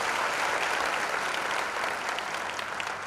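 A church congregation claps together in praise, a dense, steady wash of applause that fills the room evenly from start to finish, with no voices standing out.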